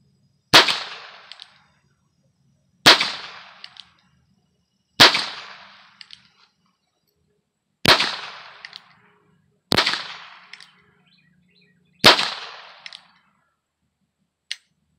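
A Heritage Rough Rider 16-inch Buntline revolver fires .22 short hollow points: six sharp, snappy cracks spaced about two seconds apart, each with a short ringing tail, followed by a fainter click near the end, with no talking.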